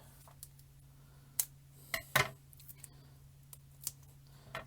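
Foam tape being snipped for a handmade Christmas card, a few quick, close, quiet clicks and cuts spaced over a few seconds against a low steady hum.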